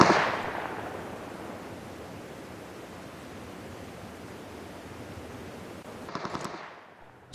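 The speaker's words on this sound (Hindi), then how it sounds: "फिर स्कोप से फायरिंग करता हूँ तो आपको आइडिया मिल जाएगा।" Scoped gunfire in the mobile shooter PUBG Mobile Lite, a dense continuous crackle of shots holding steady for several seconds before a short burst of sharper reports near the end, then silence.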